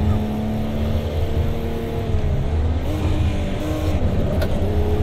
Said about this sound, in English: Starting to get a bit of a feel for how to slide this car.